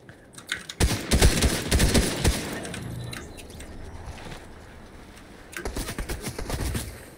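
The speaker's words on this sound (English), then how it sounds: "More shots." Gunfire from the Fortnite video game, bursts of sharp shots clustered early on, then quieter ambience before another flurry of rapid shots near the end, loud and close with no talk over it.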